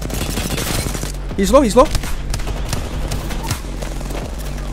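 Light-weapon gunfire in Apex Legends crackles in rapid bursts under a continuous game soundscape, with a warbling ability sound partway through and a player speaking briefly over it.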